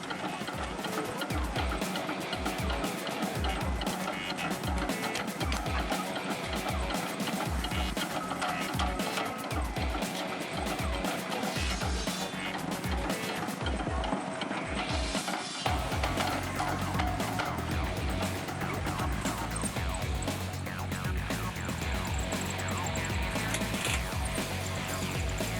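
An electric-motor firewood processor running: regular mechanical thumps about once a second over a steady whir, then a continuous dense grinding and clattering once the pulsing stops.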